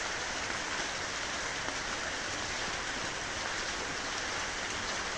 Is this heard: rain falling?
yes